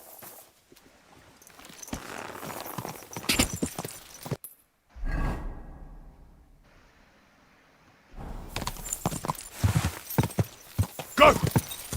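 Horse hooves clip-clopping in the medieval video game Kingdom Come 2, steady close hoofbeats for several seconds, a brief quiet break with a softer whoosh, then the rhythmic clopping resumes.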